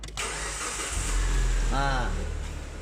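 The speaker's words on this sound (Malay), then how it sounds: "Jadi sekarang kereta ada hidup." A Proton Preve car engine cranks and catches, then settles into a steady idle close by, with a brief voice speaking during the start.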